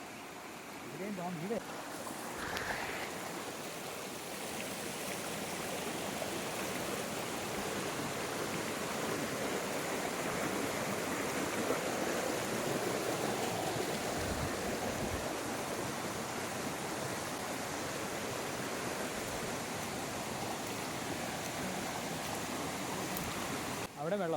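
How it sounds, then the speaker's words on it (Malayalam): A continuous roar of rushing water from a waterfall, loud and steady throughout, with brief faint voices near the start. "അതിന് തൊട്ട് മുകളിലുള്ള വേറൊരു വെള്ളച്ചാട്ടമാണ് ഇവിടെ"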